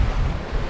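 Wind roars over the microphone in a dense, steady rush with wave wash beneath it on a sailboat running downwind through the Sound of Mull.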